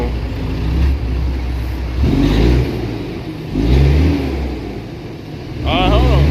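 A truck stuck in mud revs its engine in repeated surges while the tires spin, loud and close, with a voice briefly audible over the engine.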